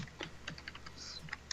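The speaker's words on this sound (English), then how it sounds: "I can hear the clicky clacking of your keyboard there." Quick, light clicks of a computer keyboard being typed on, a steady patter of keystrokes heard faintly and somewhat distant, with no talking over it.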